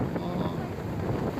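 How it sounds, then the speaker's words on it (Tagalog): Strong gusting wind on a beach at Baler, Aurora, buffeting the microphone as a steady, rumbling roar throughout, with people speaking over it. "Ay, grabe. Ang lakas ng hangin."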